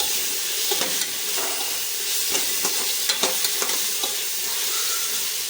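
Softened tomato with ginger-garlic paste sizzles steadily in a pan for a prawn biryani, a spoon scraping and stirring through it in repeated light strokes, close and clear with no talk.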